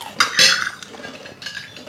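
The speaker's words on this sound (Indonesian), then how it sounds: "Ini sendok nak, bagi kita pakai sendok." A metal spoon clinks against dishes in a home kitchen during a cooking session, giving a few bright, close clatters in quick succession with quieter rattles between.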